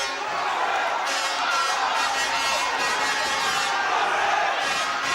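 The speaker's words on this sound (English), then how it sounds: "The crowd rising to him. That might lift him a little bit, the crowd" A boxing arena crowd at a WBO 112lb title fight roars and cheers steadily and loudly throughout, a dense wall of voices without a break.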